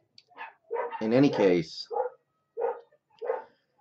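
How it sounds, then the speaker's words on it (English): A mouthy house dog barks several times in short yips and bow-wows, fairly close and loud, mixed in around a voice speaking briefly. "I got a second dog here living here right now that's mouthy."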